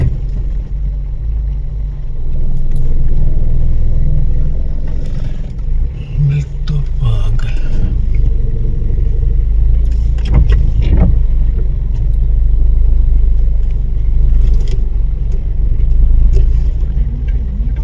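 Vehicles halted on a forest road in Bandipur, some reversing with a wild elephant nearby, give a low, steady engine rumble with a few brief louder bumps, fairly close.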